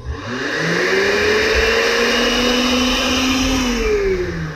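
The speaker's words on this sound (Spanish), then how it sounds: "esta licuadora con la energía normal de una casa enciende las revoluciones rápido, pero ahorita con el inversor fue lento" A household blender powered through a power inverter spins up slowly, its motor whine climbing gradually in pitch before settling into a steady, loud, close-up hum with no talk.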